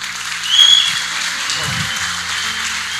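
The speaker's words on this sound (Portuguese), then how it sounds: "Vamos aplaudir nosso Deus?" A church congregation applauds God with a steady wash of many hands clapping together, swelling briefly early on and holding at an even level to the end, with a faint voice underneath.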